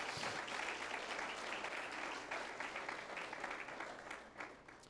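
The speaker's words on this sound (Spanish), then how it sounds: "Dale un aplauso al Rey." A church congregation applauds steadily during a Spanish-language worship service, a dense, sustained clapping that fills the room and tapers slightly near the end.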